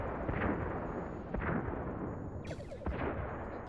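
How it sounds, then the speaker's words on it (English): Photon torpedoes fired at enemy warbirds as a Star Trek film sound effect, a loud dense barrage of booming blasts with several sharp bursts, the last two closing out the run. "Fire on all enemy ships. One photon each should do."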